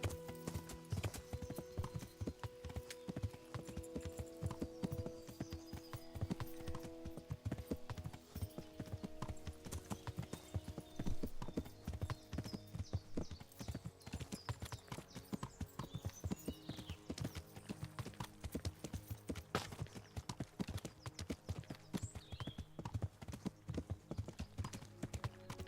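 Horse hooves in the medieval video game Kingdom Come: Deliverance clip-clop in a steady, continuous trotting rhythm for nearly half a minute, close and loud over a low game soundtrack of sustained tones.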